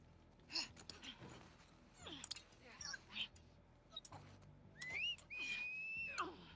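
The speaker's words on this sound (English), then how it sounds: "I hate the whistling." Enemies whistle to each other in The Last of Us Part II, with several rising and wavering whistles toward the end over quiet game ambience, breaths and faint movement.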